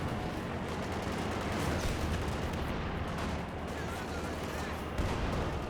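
Machine gun fire from a tank's hull-mounted and coaxial guns in a Company of Heroes 2 battle, a dense, loud, continuous roar of gunfire and explosions that fills the whole stretch.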